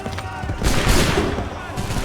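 A ragged volley of gunfire on command in a combat video game, with crackling shots swelling into a loud rolling burst and fading, while voices shout over the noise.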